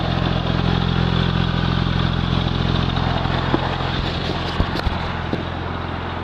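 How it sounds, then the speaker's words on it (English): Exhaust of a 2002 Porsche Twin Turbo with a K&N filter, running close by as a steady, full-bodied engine rumble, holding an even level throughout with a few faint clicks near the end. "Here's the exhaust. Just your typical Porsche exhaust."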